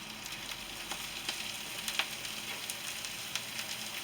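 Meat for a Philly cheesesteak frying in a pan, a steady close sizzle with small irregular pops and crackles throughout, no talking.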